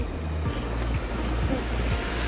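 Strong ocean surf at a beach at low tide, a continuous loud roar of breaking waves and wash filling the whole span, with low rumbling and no voices.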